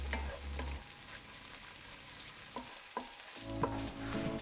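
Caramelized onions fry in a pan with a soft, continuous sizzle, broken by a few scrapes and stirs of a utensil, heard close and fairly quiet with no talking.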